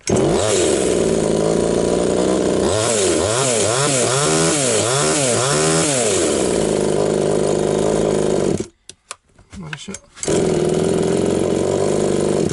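A Vitals 2511 one-handed petrol chainsaw runs loudly up close after starting, idling with several rhythmic revs in the middle, then cuts out briefly before roaring back to a steady run.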